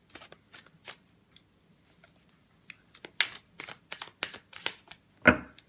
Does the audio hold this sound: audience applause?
no